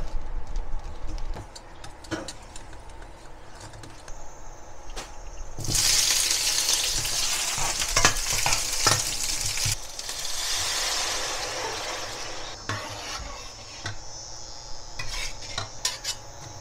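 Beef cooks in oyster sauce in a pan, a steady sizzle and bubbling simmer that swells loud in the middle, with repeated metal utensil clinks and scrapes throughout.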